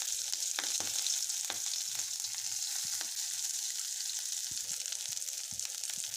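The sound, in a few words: frying green chilli, onion and bay leaf in oil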